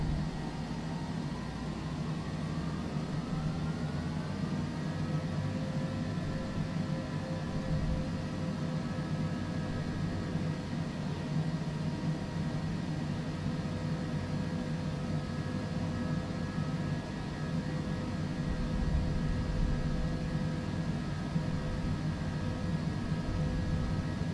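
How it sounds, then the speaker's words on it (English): Citation Longitude business jet in Microsoft Flight Simulator spooling up for takeoff: a steady, broadband engine roar with a rising whine that climbs over the first few seconds and then holds a constant pitch, continuous and moderately loud, no talking. "Runway 29er, cleared for takeoff, Hotel Alpha Lima Mike November"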